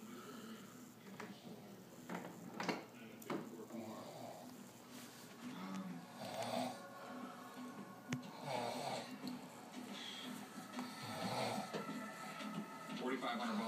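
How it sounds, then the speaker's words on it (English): A sleeping woman snores in a quiet room with a television on, slow rasping breaths recurring every couple of seconds at a low, faint level against a background hum. "I can still hear her snoring"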